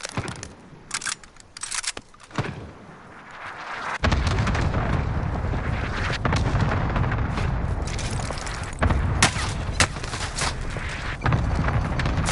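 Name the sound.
allied mortar strike explosions in video game Call of Duty Warzone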